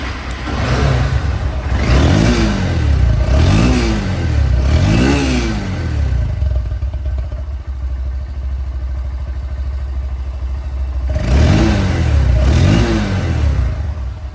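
A 2022 Honda X-Blade ABS motorcycle engine idles loudly up close, then revs three times in quick succession, settles back to a steady idle, and revs twice more.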